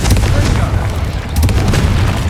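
Confringo fire spell blasts in the video game Hogwarts Legacy make a deep booming explosion with crackling debris, layered with continuous battle noise and a shouted voice.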